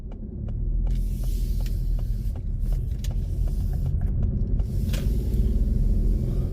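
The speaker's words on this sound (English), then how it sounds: "Just take a lower gear, let the car slowly creep." A car creeps slowly in a low gear through a mini roundabout, giving a steady, close engine rumble with light mechanical ticks and no talk.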